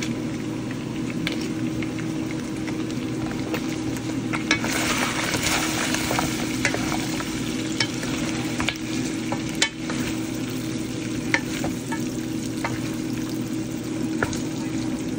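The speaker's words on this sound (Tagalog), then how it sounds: "ilalagay yung sibuyas at saka ahos para saute kasama yung ribs" Pork ribs sautéing with onion and garlic in oil give a constant close sizzle and bubbling frying noise, with occasional stirring scrapes and light clatter, a voice speaking briefly now and then.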